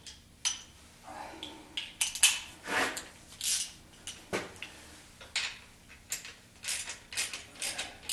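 A ratchet tightens a motor mount bolt on a 1976 Corvette restomod, making close, irregular clicking strokes with short pauses and faint metallic knocks across several seconds.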